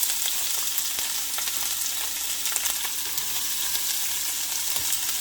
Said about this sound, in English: We're going to sizzle these onions for a little while, kind of caramelize them into oil or lard